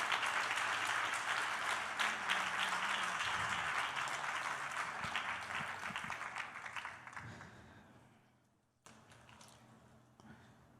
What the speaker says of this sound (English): please give a big round of applause to the artist on the stage